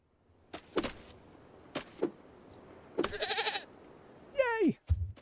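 Goats in the Far Lands survival game bleat in a few short bursts, separated by clicks, then one long wavering bleat near the end, clear and close without talk.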